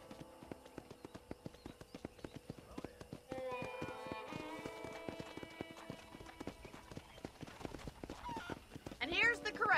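Horse hooves clip-clop steadily in Red Dead Redemption, a quick even clatter under in-game ranch ambience and a rising musical tone, with voices talking over it.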